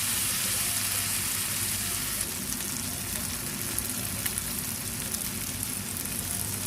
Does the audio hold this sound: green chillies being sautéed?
yes